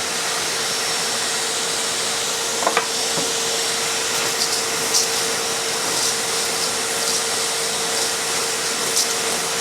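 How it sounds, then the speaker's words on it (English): A shop vacuum pulls air through a homemade coffee roaster set on a 5-gallon bucket with a hole drilled in it, giving a constant loud whooshing roar and a steady whine, broken by a few faint ticks and rattles. "Drilled a hole in it so my vacuum can suck air through it."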